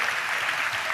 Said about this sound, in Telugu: చప్పట్లు కొడుతూ ఆ దేవునికి స్తోత్రాలు చెప్దాం